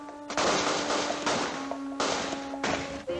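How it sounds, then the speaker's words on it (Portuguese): Gunfire during an army confrontation in the hillside favelas of Rio, heard as a few sharp bursts and scattered shots at moderate distance, each followed by a broad, noisy decay. "No confronto, mais tiros."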